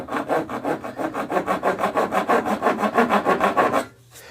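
A hand saw cutting a curved radius in wood for a guitar build, about twenty quick rhythmic back-and-forth rasping strokes, close and loud, then stopping.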